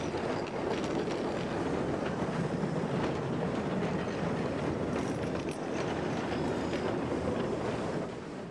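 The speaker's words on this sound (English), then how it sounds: "Today we learn about excursion trains, also called tourist trains." An excursion tourist train rolls along the rails with a steady, loud rumble and wind buffeting the microphone throughout, with no talking.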